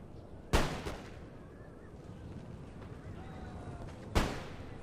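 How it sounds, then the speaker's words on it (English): Musket volleys from cavalry carbines in the battle game Napoleon: Total War, two sharp, loud cracks about three and a half seconds apart, each trailing off over distant battle ambience. "Really nice volleys from the shooter cab"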